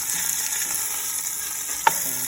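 Beef osso buco shanks searing in a pan produce a steady, fairly loud sizzle with faint stirring, broken near the end by one sharp clank of a utensil against the pan.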